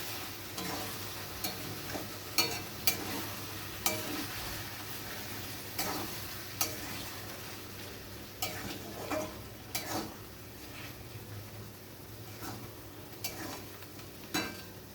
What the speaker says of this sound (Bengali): মশলাটা চিকেনের সাথে ভালো করে কষিয়ে নেব